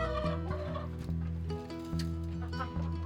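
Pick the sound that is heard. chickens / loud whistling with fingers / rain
chickens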